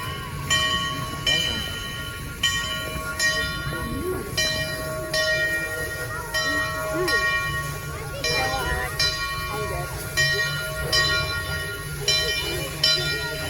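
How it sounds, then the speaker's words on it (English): A heritage railway train bell rings steadily in repeated, evenly spaced clangs over a low rumbling engine, with faint voices in the background, at Heritage Park in Calgary, Alberta, Canada. "Hear the bell ringing?"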